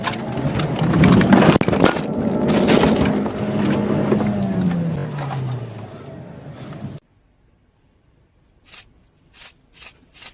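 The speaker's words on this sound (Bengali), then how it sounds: "একটি ক্ষিপ্ত গন্ডার হঠাৎ করে গাড়িতে আক্রমণ করলো।" An angry rhinoceros attacks a car, a loud burst of crashing, crunching impacts and engine noise lasting several seconds, then near silence broken by a few short, sharp knocks.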